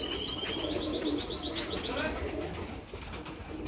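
Several pigeons of the old badami-headed breed on a rooftop, with a run of quick, bright chirping calls early on over a steady murmur of background noise and faint cooing.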